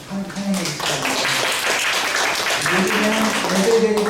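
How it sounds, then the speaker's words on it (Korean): A Korean church congregation at Sunday worship claps in welcome, a moderate round of applause under nearly continuous talking. "박수로 환영해 주시기"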